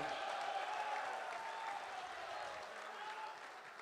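Audience applause at a UMNO youth political speech: a broad wash of crowd clapping, soft and somewhat distant, holding steady and easing slightly toward the end.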